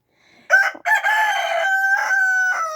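A rooster crows loudly and close by, one long drawn-out cock-a-doodle-doo with a brief break near the start.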